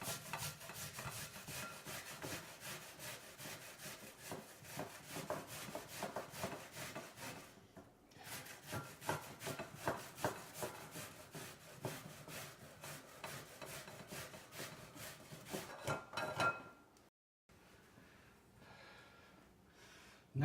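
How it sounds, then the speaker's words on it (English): Onions are grated by hand across the rough side of a colander grater, a fast rhythmic rasping of repeated strokes that stays close and steady, pauses briefly, then resumes more quietly. "start grating my onions"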